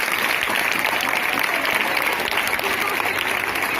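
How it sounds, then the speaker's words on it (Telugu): Steady audience applause fills a school mock assembly put on by students, a dense, continuous wash of clapping at even loudness throughout with no pauses. "అందరం కలిసి ఒకసారి గట్టిగా చప్పట్లు కొట్టండి"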